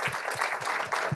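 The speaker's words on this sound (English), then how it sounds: "let's give a good round of applause here." Brief burst of audience applause at a product meetup talk, a dense clatter of clapping with a few muffled low thumps, moderately loud and close.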